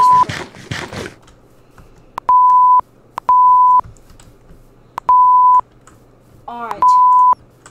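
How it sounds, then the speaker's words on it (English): Repeated electronic beeps in Minecraft, a handful of steady tones each about half a second long, evenly spaced and loud, following a brief burst of noisy activity with some faint background sound. "It's beeping."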